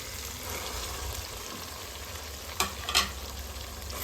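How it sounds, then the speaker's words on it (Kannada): Ground masala frying in oil for a spicy crab curry, a steady close sizzle with a couple of sharper spattering bursts near the end. "ಇವಾಗ ಚೆನ್ನಾಗಿ ಫ್ರೈ ಆಗಬೇಕು ಒಂದೆರಡು ನಿಮಿಷ"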